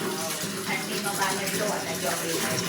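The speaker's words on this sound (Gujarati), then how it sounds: "બહાર તો બેસાય એવું નથી એટલે બાથરૂમમાં જ કપડાં ધોવા પડે છે." Clothes washed by hand with running water in a home bathroom, a steady gushing and splashing that fills the whole span at moderate level, with a voice murmuring faintly underneath.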